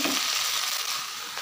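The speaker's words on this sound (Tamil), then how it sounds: "இப்போ நம்ம தோசை போடுற தவாலே வந்து நான் கொஞ்சம் வேர்க்கடலையை போட்டு ஃப்ரை பண்ணிடலாம்" Peanuts dry-roasting without oil on a dosa tawa give a brief, close, steady crackling sizzle with no voices.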